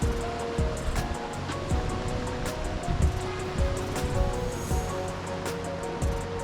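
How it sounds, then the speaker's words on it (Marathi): Sea waves roll and wash continuously where a river meets the sea at Devbagh, Malvan, a loud steady surf with repeated surges breaking close by, no voices. "इकडे हा समुद्र बघा, लाटा येतात आहे"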